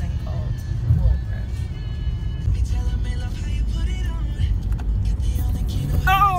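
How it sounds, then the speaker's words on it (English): A car speeds up on a road near Louisville and into Indiana, a steady rumbling engine and road noise building under the cabin. Someone talks throughout. "Whoa, you sped up the car."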